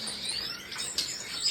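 Small birds chirping on a rainy day at a bird farm, scattered thin high tweets over a soft steady hiss of rain, fairly faint and without voices.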